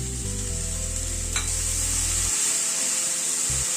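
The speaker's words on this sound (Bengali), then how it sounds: "ব্রোকলিটাকে দিয়ে একটুখানি ভেজে নেব" Broccoli sizzles in a pan with lightly fried onions, giving a steady bright frying hiss throughout, joined by a low electric hum that stops partway and returns briefly near the end.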